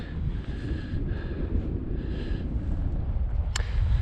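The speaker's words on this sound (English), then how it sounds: "there's a bit of bite to that wind that didn't seem to be yesterday" Cold winter wind gusting across a high mountain camp on Kidsty Pike in the Lake District, a steady low roar against the microphone with no voices.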